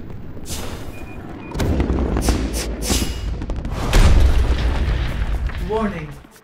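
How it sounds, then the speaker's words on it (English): Incoming bombardment in the video game Fortnite, with several booming explosion impacts at irregular intervals and a rising whoosh near the end, mixed with other game sounds. "Warning, incoming bombardment."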